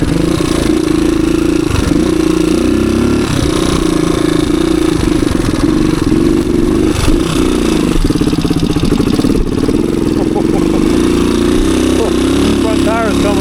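A low-hour 1985 Suzuki DR250 dirt bike climbing a wooded hill in second gear, its single-cylinder engine revving hard and steadily close by with clattery mechanical noise throughout and a strained pitch rising and falling.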